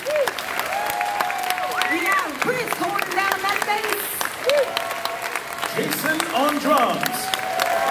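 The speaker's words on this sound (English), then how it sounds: "let's give this fantastic band another round of applause" Sustained audience applause for a band at an outdoor Epcot Festival of the Arts concert keeps going under an amplified announcer talking over it, with a few cheers rising from the crowd.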